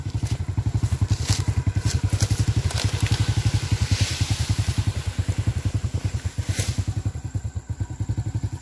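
A broken-down Honda C70 motorcycle hauling oil palm fruit on a cart, its engine running loud and close with a steady, rapid single-cylinder putter that holds even throughout, with brief clattering bits.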